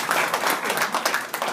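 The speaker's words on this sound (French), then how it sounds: "on l'applaudit" Applause from the audience at an orthopaedic surgery gathering, honouring administrative organising staff: a steady, dense patter of many hands clapping throughout, moderately loud and with no voices over it.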